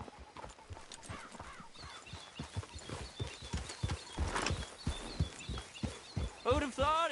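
Horse hooves clip-clop in a steady, rhythmic walking beat in the Red Dead Redemption 2 video game, heard fairly close, with brief voices and a whinny-like sound near the end.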